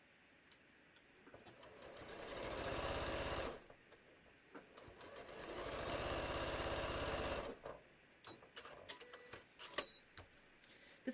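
Sewing machine quilting fabric for a bucket hat, two steady bursts of rapid mechanical stitching of a few seconds each, separated by a short pause and followed by light handling clicks, close and fairly quiet.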